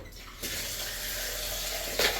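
Tap water runs steadily while tomatoes are rinsed in a village kitchen, a continuous close hiss with a brief louder splash near the end, no talking.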